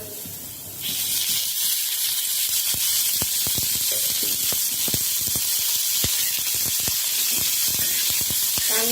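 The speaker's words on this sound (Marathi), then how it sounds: "कांदा भाजण्यासाठी थोडं तेल घालूया" Thinly sliced medium onion hits hot oil in a pan and a loud, close sizzle bursts in after a quiet start, then continues with dense crackling pops throughout.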